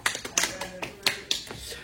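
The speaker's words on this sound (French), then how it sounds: "good job, on peut l'applaudir" A small group in a CrossFit gym session gives a short burst of applause, a handful of sharp, uneven claps close by over under two seconds, with a voice speaking alongside.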